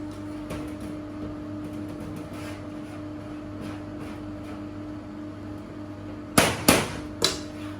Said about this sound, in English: Little tap just to knock out any of the excess air